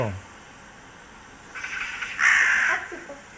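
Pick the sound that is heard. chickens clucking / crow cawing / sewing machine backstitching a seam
crow cawing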